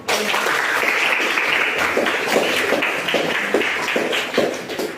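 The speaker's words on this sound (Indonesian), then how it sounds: "tepuk tangan buat" A classroom of students in a history lesson claps together, a dense, close burst of applause that holds steady with sharper taps poking through.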